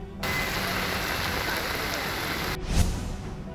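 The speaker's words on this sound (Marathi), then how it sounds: "ज्या दिवशी पाऊस पडेल त्या दिवशी पाऊस धोधो कोसळतोय" Heavy city downpour pours as a dense, loud, steady roar that starts and stops abruptly, with a brief low rumble near the end.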